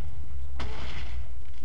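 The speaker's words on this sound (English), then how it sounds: "safely watch the explosion happening without getting blown to smithereens" A single explosion goes off in a video game, a sharp broadband blast followed by a rumbling decay over about a second, fairly loud against a low steady background hum.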